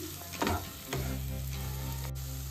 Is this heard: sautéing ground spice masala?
yes